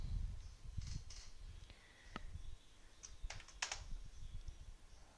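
Soft keystrokes on a computer keyboard as Python code is typed, a few scattered clicks then a quick cluster of taps, quiet and close with a faint background hiss and no speech.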